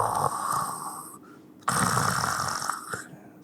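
A voice imitates snoring or a held breath, producing rough, rasping snore-like strains in two long pulls separated by a short pause, close and fairly loud.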